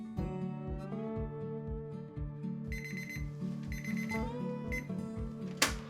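An oven timer alarm rings out a repeating electronic melody of bright beeping tones, steady and moderately loud, cycling over and over.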